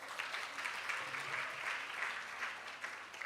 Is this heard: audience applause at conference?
yes